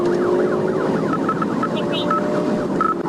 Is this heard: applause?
no